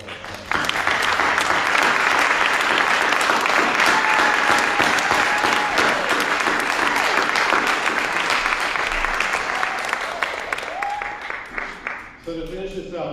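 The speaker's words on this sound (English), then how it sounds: "let's have a round of applause for ourselves" Loud, sustained audience applause at a Martin Luther King Jr. celebration event, dense clapping that holds steady for several seconds before thinning out, with some voices mixed in.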